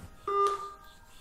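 Phone dialing a call before switching to speaker, heard as a short pair of steady electronic tones lasting about half a second, moderately loud and with nothing spoken over it.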